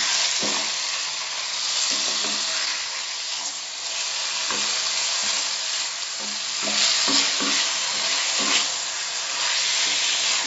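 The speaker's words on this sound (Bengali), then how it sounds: "চিকেনের কালার চেঞ্জ না হওয়া পর্যন্ত এটাকে ভেজে নিতে হবে।" Chicken pieces fry in a pan over medium flame for Mughlai-style chicken nihari, a steady loud sizzle broken by repeated scraping stirs and clatters against the pan.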